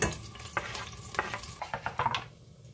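Garlic frying in hot oil, a soft sizzle with scraping stirs in quick irregular strokes, close by and fairly quiet.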